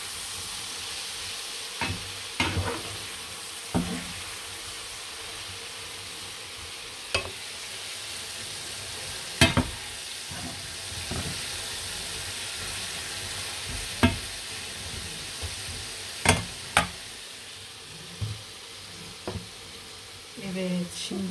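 Onions sizzle steadily in a pan while a utensil stirs them, with occasional scraping clicks and knocks over the constant hiss.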